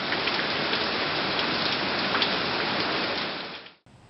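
Steady, heavy rain pours down in Detroit, a dense, even hiss of drops on surfaces that fades and cuts off just before the end.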